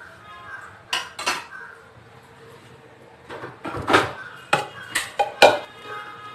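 A clay handi pot is turned and rubbed with oil for Champaran chicken handi, giving a string of sharp ceramic clinks and knocks in quick irregular bursts, close and fairly loud, with no voice over them.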